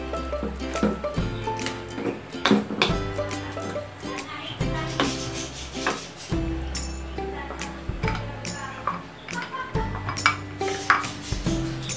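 A spoon scrapes and clinks against a pan while green peas and cream are stirred into a pasta sauce, giving irregular metallic taps and knocks, close and fairly clear.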